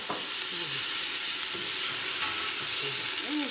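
Tomatoes go into a pan of ginger and garlic that is already browning, bringing a loud, steady sizzle with stirring scrapes throughout and no voices.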